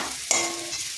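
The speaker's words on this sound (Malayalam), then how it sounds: "மிளகாப்பொடி, മല്ലിപ്പൊടി, വേണ്ടിയ ഉപ്പ് എല്ലാം റോസ്റ്റാക്കും" Chili powder, coriander powder and salt roast in a hot pan with a steady close sizzle, broken by one sharp scrape of stirring partway through.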